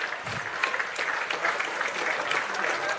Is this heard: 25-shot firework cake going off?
no